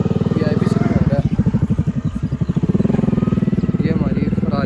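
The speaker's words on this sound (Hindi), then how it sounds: "ये हमारी फरारी है स्कूटरी" A scooter engine idles close by with a rapid, steady pulsing putter that continues throughout.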